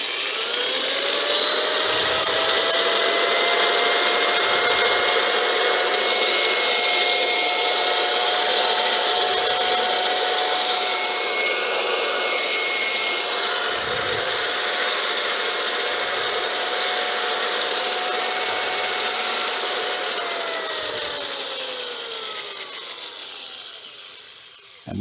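A pilot-guided valve seat grinder works a valve seat on a Waterloo Boy 5HP engine, giving a steady, loud whirring drone with faint rhythmic ticks. The pitch holds level for about twenty seconds, then winds down near the end.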